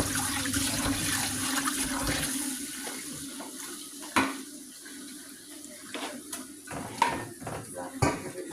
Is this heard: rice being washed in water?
yes